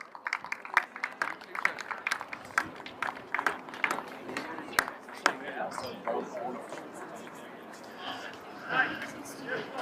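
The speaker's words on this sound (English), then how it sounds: "there's a good applause as he comes off as he gets carried off the field" Spectators at a UAE rugby Premiership match between Dubai Hurricanes and Dubai Dragons clap scattered and distant as an injured player is carried off, steady patter under continuous commentary.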